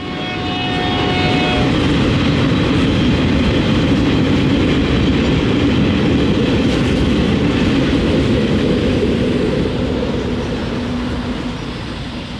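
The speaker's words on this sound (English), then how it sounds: "The first was empty rail train 981 with 2 classic EMD locomotives for power." An empty rail train led by two classic EMD locomotives rolls past close by, a loud sustained roar of engines and clattering wheels that swells in and stays heavy before easing slightly at the end.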